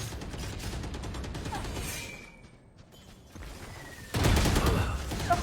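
Video game gunfire comes in rapid dense bursts, loud and close, fading briefly in the middle before a heavier volley erupts near the end.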